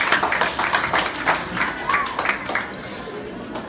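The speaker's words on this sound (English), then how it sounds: "let's give a round of applause to the principal and her committee" An audience claps at a primary school retirement speech, lively applause with scattered voices and a brief whoop mixed in, tapering off toward the end.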